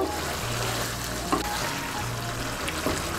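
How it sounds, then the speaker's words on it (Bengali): Potato and eggplant curry frying in a pan as sugar is stirred in, a steady soft sizzle with a low hum beneath and a couple of faint utensil taps. "চিনিটাকে মিশিয়ে নেব।"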